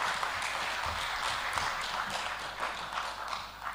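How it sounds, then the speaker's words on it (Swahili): An audience at a university golden jubilee ceremony claps for the VC, a steady patter of many hands at moderate distance, continuous and fairly soft, without talk. "Makofi mengi kwa VC basi."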